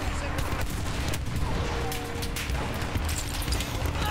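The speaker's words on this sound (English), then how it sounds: "Mondragon sniper." Mondragon sniper rifle firing in Battlefield 1 amid a dense battlefield wash of gunfire and explosions, loud and continuous over about four seconds, with individual shots hard to pick out.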